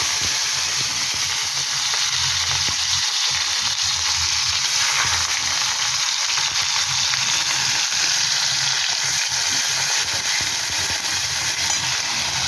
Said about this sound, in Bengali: এই তেলে পেঁয়াজগুলো দিয়ে দিলাম।